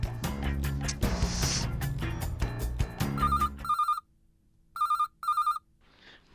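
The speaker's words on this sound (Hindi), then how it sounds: "नटू काका, सेठ जी का फोन।" A telephone rings in short, bright electronic bursts, repeating several times after a loud rumbling stretch, then pauses between rings.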